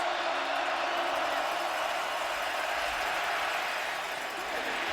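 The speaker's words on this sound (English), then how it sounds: "Crowd is alive. It's noisy here in Austin." A noisy stadium crowd at a Texas versus West Virginia college football game in Austin, a steady loud roar of many voices sustained without pause throughout.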